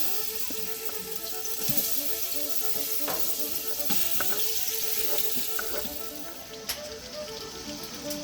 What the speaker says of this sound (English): You can hear our beef frying.